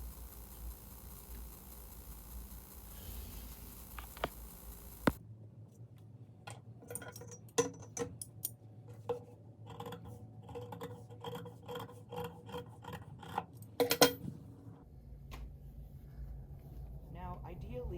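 Felt being trimmed along a ruler for a handmade notebook cover, heard as a run of close, dry rasping and scraping strokes with scattered clicks and ticks over a steady low hum.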